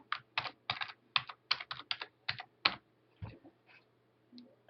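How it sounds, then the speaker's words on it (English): Typing on a computer keyboard to enter a Mitchell email address and password, a close run of quick key clicks in bursts followed by a few sparser taps, with no talking. "here you'll be asked to type in your Mitchell email address"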